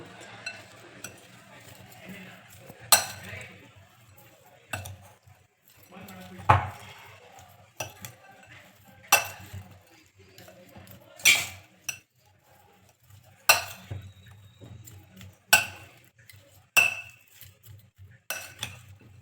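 A spoon stirring jackfruit rasayana in a metal pot gives sharp, scattered clinks and scrapes at irregular intervals, fairly soft and close, with quiet stretches between strikes.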